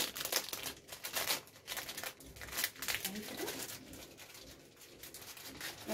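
A plastic bag of spaghetti crinkles and rustles in a home kitchen, a continuous close crackling handled for several seconds while a voice talks alongside.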